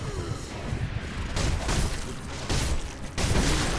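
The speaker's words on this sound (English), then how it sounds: "we should be able to use firecrackers against you." Firecrackers going off in the game Sekiro, a few bursts of crackling pops at near range, with sharp broadband onsets that repeat roughly every second or so.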